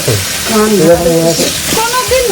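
Chili and ginger paste hits hot oil in a pan and sizzles steadily as it is stirred, a close crackling hiss running under a voice speaking throughout.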